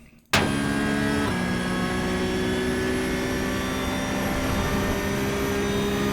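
A Porsche GT3 Cup 992.1 engine in the iRacing sim at full throttle, rising from quiet to a loud, sustained high-revving drone with a quick upshift early on, steady and alone throughout.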